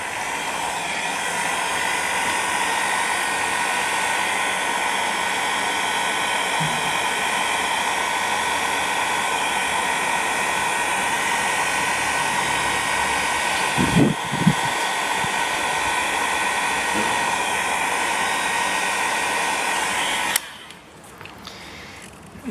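A hair dryer blows steadily and loudly at close range, drying paint on black synthetic Yupo paper, then cuts off abruptly near the end.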